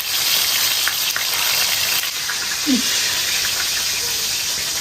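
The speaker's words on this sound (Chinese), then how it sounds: "锅中加油，葱姜蒜爆香" Scallion, ginger and garlic sizzle and crackle in hot oil in a wok, a steady close hiss that runs continuously with a few faint clinks.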